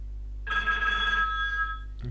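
Phone extension ringing for an incoming call on a hosted business phone system, a single bright electronic ring burst lasting about a second and a half over a low steady hum, with a brief click at the end.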